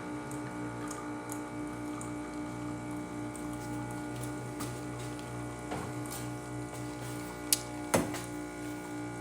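An Olympia espresso machine, freshly tuned up and loaded with finely ground fresh coffee, pulls a shot with a steady low pump hum and faint trickling, then two brief clicks near the end; close, fairly quiet, no voices.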